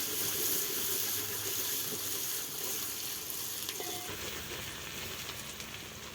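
Onions fry in a pan with a steady, close sizzle and a faint crackle, running continuously without talk.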